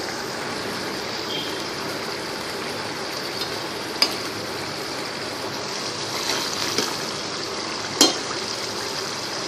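Fish being stir-fried and turned in a pan, a steady broadband sizzle running throughout with occasional sharper clinks of a utensil against the pan, no voices.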